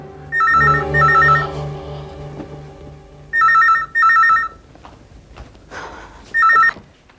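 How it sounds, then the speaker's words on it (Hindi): A telephone rings unanswered: loud electronic double-burst rings repeat several times with short gaps, close and clear, alongside faint background sounds. "घंटी बज रही है,"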